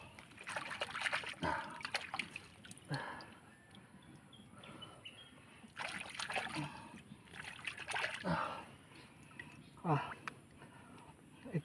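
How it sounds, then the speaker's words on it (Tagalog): Water splashes and trickles in a shallow creek as someone pans in it, with intermittent sloshes and dribbles heard at close range and a person speaking over parts of the sound. "Ito ngayon ay babrasan natin dito sa sapa"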